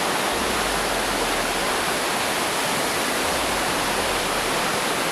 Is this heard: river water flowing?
yes